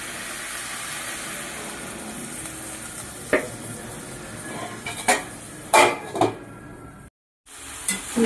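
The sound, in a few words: stirring spices with salt and turmeric in pan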